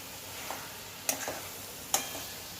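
A thick coconut barfi mixture is stirred in a pan over low heat, a quiet background sizzle broken by a few distinct scraping strokes and clinks of the spoon.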